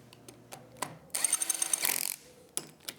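A 6mm Allen tool tightening the handlebar riser clamp on a 2024 Triumph Speed Twin 1200, a close burst of quick rhythmic ratcheting clicks lasting about a second between scattered light taps.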